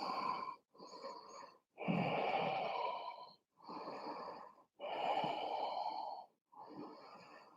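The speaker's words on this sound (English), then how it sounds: "Another 3 deep breaths in and out" Six deep, slow breaths during a vinyasa yoga flow, each a long airy inhale or exhale with short pauses between, close to the microphone and breathy, with no talking.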